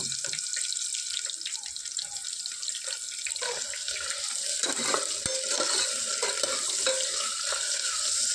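Thinly sliced onions sizzle in a pan for a mutton biryani, with a steady frying hiss under intermittent scraping and clinking as a spoon stirs them, close and moderately loud.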